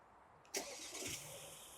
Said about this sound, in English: And car is now remote started.